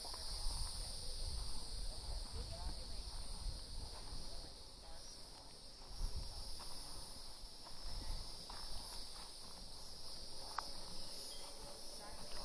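A steady high-pitched drone of cicadas fills the background in a cemetery in Rosewood, Florida, faint and continuous, with soft rustling and shuffling sounds underneath.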